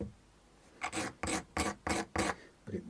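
Sandpaper rubbed over the frets of a Vintage V100 guitar during a re-fret, six quick rasping back-and-forth strokes up close in a steady rhythm.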